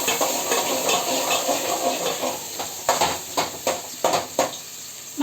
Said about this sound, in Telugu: మనం ఈ కాగిన ఆయిల్లో ఉల్లిపాయ, పచ్చిమిరపకాయ, ఒక పచ్చిమిరపకాయే వేసాను.